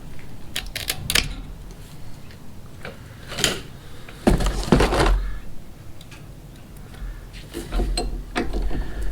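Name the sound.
cutting the end off a PTFE fuel line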